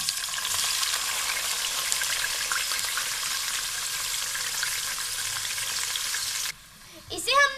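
Onions hit a cup of hot ghee and fry with a loud, dense, close sizzle that runs steadily for about six seconds, then cuts off abruptly and is followed by a brief different sound.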